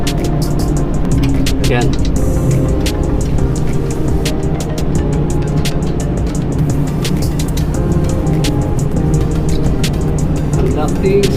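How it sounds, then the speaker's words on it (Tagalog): A ship's emergency generator runs steadily through a blackout test, a loud continuous engine drone with a low rumble. Crew voices talk briefly over it. "Conducting simulation blackout test emergency generator"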